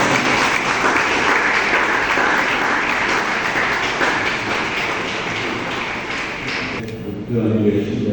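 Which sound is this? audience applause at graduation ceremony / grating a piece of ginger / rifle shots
audience applause at graduation ceremony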